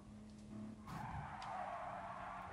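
Renault Clio race cars in a one-make GT Sport video game race skid with tire squeal and make contact, a steady engine drone under a rising broadband screech that holds loud to the end.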